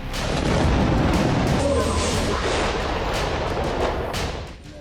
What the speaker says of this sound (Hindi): इजराइल का ताज़ा हमला उत्तरी लेबनान में हुआ, जहां के अक्कर इलाके में आईडीएफ ने बमबारी की।